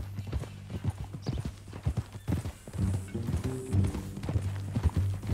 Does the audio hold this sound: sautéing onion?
no